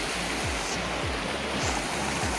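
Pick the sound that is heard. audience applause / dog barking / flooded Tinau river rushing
flooded Tinau river rushing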